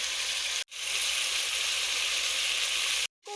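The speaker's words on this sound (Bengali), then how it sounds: "কপিটাও কিন্তু দিয়ে দিলাম এবার কষিয়ে নিব আমি" Cauliflower sizzling loudly in a pan with spiced potatoes, a steady bright hiss of frying that briefly cuts out twice, with no talking.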